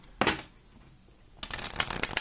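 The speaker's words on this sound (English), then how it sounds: "I'm such a mess when it comes to shuffling" Tarot cards being shuffled close up: a short riffle burst, a brief pause, then a longer run of crisp flapping card sounds.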